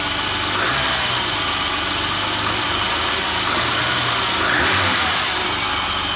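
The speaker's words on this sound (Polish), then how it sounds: "Silnik pracuje bardzo ładnie" BMW engine idling steadily in a workshop after repair, a continuous even mid-pitched drone with slight vibration, close and alone without talk throughout.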